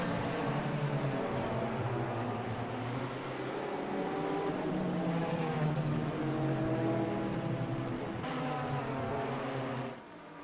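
GT3 race cars leave pit lane at Laguna Seca in a GT3 World Championship round, a loud sustained engine drone with overlapping cars revving and passing, easing off at the end.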